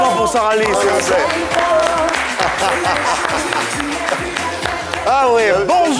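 A studio audience applauds a singer on a variety show. The clapping is steady and close, mixed with cheering and crowd chatter, and swells again near the end.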